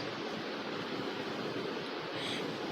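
Water boils in a pot for rasgulla syrup flavoured with cardamom husks and green food colouring, a steady close bubbling hiss with no distinct breaks.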